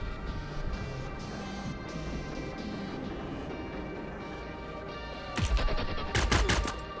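Gunfire in the video game Cyber Knights Flashpoint: several sharp, loud shots burst out near the end, clustered in two quick volleys over a dense background of game music and ambience.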